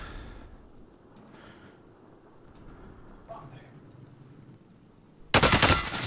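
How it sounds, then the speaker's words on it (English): A sudden, loud burst of rapid video game gunfire erupts close by near the end, after several seconds of low, rumbling ambient background. "Taking fire from the right over there by you."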